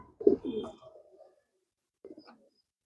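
Racer pigeons kept in a loft in Pirangut give a low, throaty coo close by, one longer rolling call and then a short second one, with quiet pauses between.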